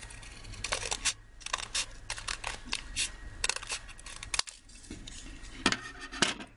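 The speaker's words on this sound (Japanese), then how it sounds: "今つけた折り筋に合わせてハサミ入れます。" Scissors snip through a square of origami paper along a fold line, a quick series of close, crisp cuts with brief pauses and paper rustling between them.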